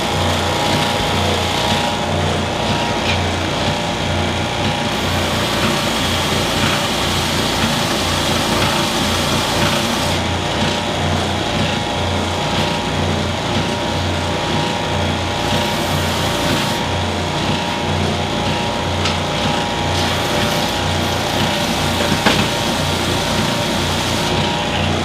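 Steady whining drone of a power sander on 3D-printed proton pack greeble parts, loud and continuous for the whole stretch with little variation, no speech.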